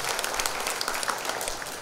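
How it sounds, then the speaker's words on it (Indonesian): Audience members at a health education talk show from Banyuwangi's health office clap in a brief, dense burst of applause, fairly loud and sustained without speech. "Boleh berikan tepuk tangan."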